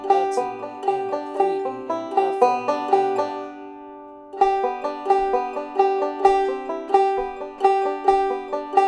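A banjo plays rapid forward-roll backup patterns for Cripple Creek in a steady, bright stream of plucked notes, pausing briefly midway before the rolling picking resumes.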